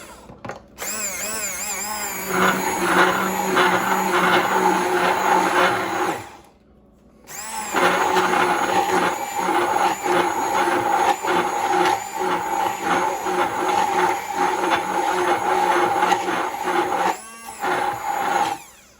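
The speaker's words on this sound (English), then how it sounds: "I'm going to use my emulsifier to break this all up" An immersion blender whirs loudly and steadily through crepe batter of flour, three eggs, milk and salt, in two long runs separated by a brief pause, close to the listener and with no talking.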